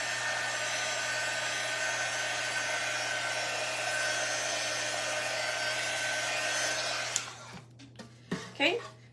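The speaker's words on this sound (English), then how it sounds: "I am gonna try and heat it just a little bit," Heat gun or hair dryer drying paint on a milk jug: a steady, loud whir runs for about seven seconds, then cuts off, followed by a few handling knocks and clatters.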